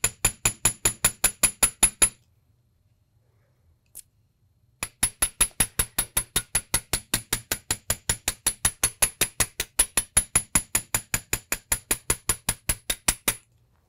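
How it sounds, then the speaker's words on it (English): Steady, rapid hammering on metal earring wire resting on a steel block, dozens of crisp ringing taps at an even rhythm close to the mic, with a brief pause partway through before the strikes resume. "I'm going to hammer from the center out to the edges of the sides."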